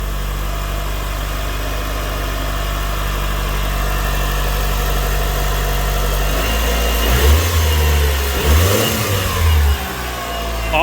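A Mitsubishi EVO 4 engine, freshly fitted with a coil-on-plug ignition kit, idles steadily and close by, then gets a few short blips of the throttle near the end with no talking.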